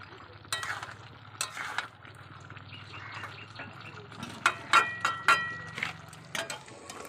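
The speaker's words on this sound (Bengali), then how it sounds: "মাংসের জলগুলোকে ভালো করে কষে নিয়েছি, জলগুলো শুকিয়ে নিয়েছি" Meat frying in a pan while its released water cooks off, with a soft, steady sizzle under a series of sharp scraping and stirring knocks, and some faint talk in the background.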